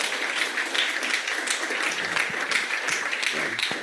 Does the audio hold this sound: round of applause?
yes